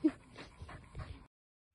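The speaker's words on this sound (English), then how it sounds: "One of these dogs in the park." A dog in a park whimpers and yips in a short, faint burst of soft high cries and snuffles, cut off abruptly into silence.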